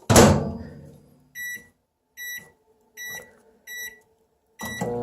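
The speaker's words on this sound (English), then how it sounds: "all you have to do is stick them in the microwave" A microwave oven cooking string beans gives a door thunk, then four evenly spaced electronic beep bursts, each a short triple tone, ending with another clunk of the door.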